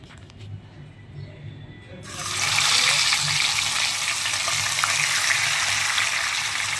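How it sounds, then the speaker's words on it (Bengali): Fish going into hot oil in a wok: a quiet kitchen with a faint voice gives way to a sudden loud, broad sizzle that stays steady and close to the end. "এখন মাছগুলো এক এক করে আমি ভেজে নেবো"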